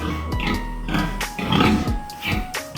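Pigs on a farm in the Philippines, grunting and oinking close by in a few short bursts over steady pen noise, with no talk.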